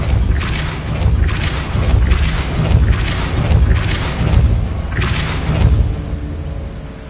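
Repeated Depulso spell blasts from the wizarding video game Hogwarts Legacy land as a string of about five heavy, booming thumps over a dense rumbling game backdrop.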